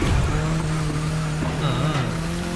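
A race car engine drones loudly as the car brakes into a corner in the video game The Crew Motorfest, its pitch sliding down with a faint tire squeal.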